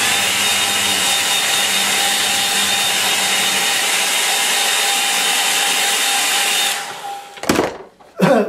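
A hair dryer drying acrylic paint blows with a loud, steady whirring hum for several seconds, then switches off, followed by a few brief handling knocks.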